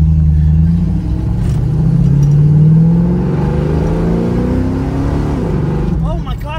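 A 1971 Mustang Mach 1 with a 351 Cleveland V8 accelerates hard, a loud, deep engine note climbing steadily in pitch through a gear before easing off, with voices faintly present.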